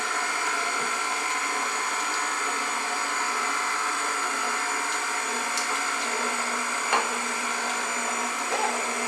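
An electric mixer runs steadily on low speed through cookie dough, a constant whirring motor hum with faint knocks from the beaters, close and without talk.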